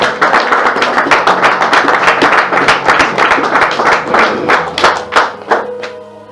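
A church congregation claps together in praise of the Lord, a dense and steady stream of loud hand claps that carries on for several seconds before thinning out near the end.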